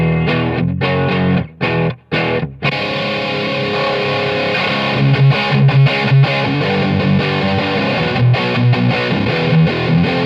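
A Greco EG 500 electric guitar with Fishman humbuckers tuned to drop D rings out in a loud, full, sustained strummed passage after a few choppy opening hits. No talking.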